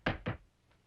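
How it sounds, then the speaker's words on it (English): Knuckles rap twice on wood, two quick, firm, close knocks about a quarter second apart, followed by a faint, soft tap as the sound dies away. "Knock on wood."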